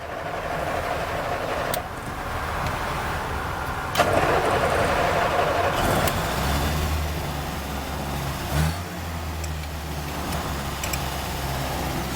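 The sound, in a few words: 1974 Land Rover 88-inch soft top engine running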